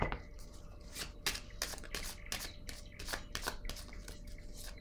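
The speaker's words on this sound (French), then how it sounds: "je vais y aller avec une carte pour déposer ici" Cards are drawn and laid down on a table, producing quiet, crisp slaps and papery flicks in an irregular rhythm, close and soft.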